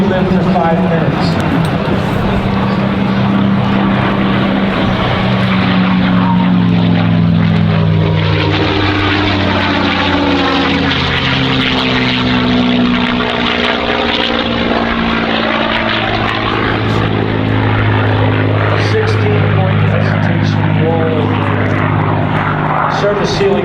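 A P-51 WWII warbird's piston engine drones loudly overhead at an airshow, its pitch sliding down as it passes and recedes, while an announcer talks over the roar.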